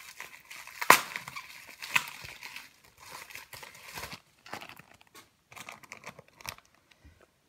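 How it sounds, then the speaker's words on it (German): Packaging crinkles and rustles while a parcel is unpacked, with close, irregular bursts of crumpling plastic and paper separated by brief quiet gaps and no talking. "Ich habe es gleich soweit, ich muss nur alles auspacken."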